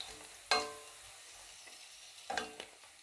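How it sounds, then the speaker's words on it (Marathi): Okra fries in hot oil at low volume, a faint hiss broken by two distinct scraping bursts as a spatula turns the pieces. "भेंडी तेलात सारखी हलवत राहायची आहे, म्हणजे भेंडी सगळ्या बाजूने चांगली तेलात परतल्या जाईल."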